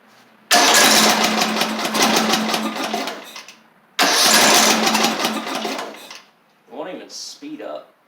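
A Craftsman LT3000 lawn tractor engine being cranked with a faulty ignition: two loud bursts of cranking, each lasting about three seconds, followed by brief clattering handling noises.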